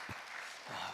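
A congregation at a church prayer-retreat service claps to welcome the pastor. The burst of applause is brief and even, heard at a moderate distance.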